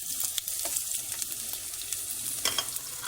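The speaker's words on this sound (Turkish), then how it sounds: "Hemen şöyle irice doğradığım soğanları yağıma ekliyorum." Coarsely chopped onions sizzle in hot oil in a pot for a Kilis kebab, a steady close-up frying hiss with small crackles and occasional stirring clicks.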